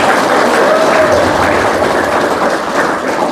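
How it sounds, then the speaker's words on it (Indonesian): A room full of people at an Indonesian bootcamp event applauds in a dense, steady wash of clapping that fades slightly toward the end, with faint voices mixed in. "Tepuk tangan."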